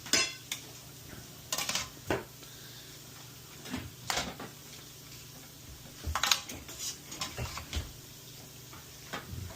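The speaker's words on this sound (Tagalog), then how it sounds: "halo-halo ko muna" Kalderetang belly being stirred in a cooking pot: a utensil scrapes and clinks against the metal in irregular bursts over a low steady hum, close and fairly quiet, with no talking.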